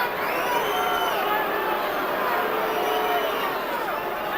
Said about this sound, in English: And the Boo Birds come out in the crowd.